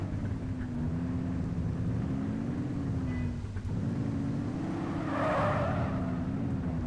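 Car being driven in The Precinct video game, a steady engine drone whose pitch rises and falls with throttle, with a brief tire squeal and rushing swell near the end, no voices.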